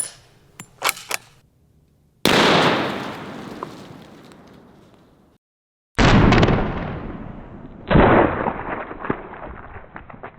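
.338 Lapua rifle fired into a watermelon: sharp, booming gunshots with long rolling echoes, a few small clicks first, then a blast, a pause, and two more heavy reports with decaying tails outdoors.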